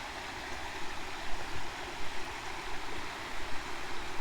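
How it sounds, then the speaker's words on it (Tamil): Steady rushing of stream water flowing over rocks, a constant broadband wash with small gurgling swells and no voices. "தண்ணி சாப்பிட்ற சத்தம் பாருங்கள் இவ்வளோ கிளியராக இருக்குன்னு"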